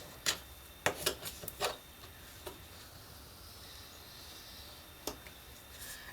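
Decorative paper being scored by hand for model castle walls: a handful of short, dry scraping strokes in a quick cluster, then a single later stroke over a quiet background, with no voices.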